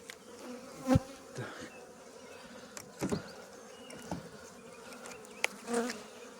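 A steady hum of many honey bees buzzing at a hive fills the air nearby, with a few louder individual bees passing close, no voices.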